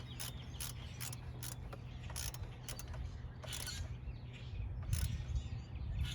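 Bolts on the water pump of a 1999 Chevy Silverado 1500 with a 4.8 engine are tightened with a ratchet, giving faint, quick clicking and creaking strokes in irregular bursts over a low, steady hum.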